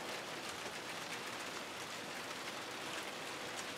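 Steady rain falls in a ryokan garden in Kyoto, an even, soft hiss of drops on surfaces with no voices.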